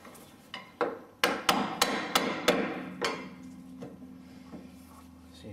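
A hammer taps a fat screwdriver to pry open a Land Rover steering joint: about a dozen sharp, close metallic knocks, a few spaced strikes and then a quick run of blows that fade to lighter taps.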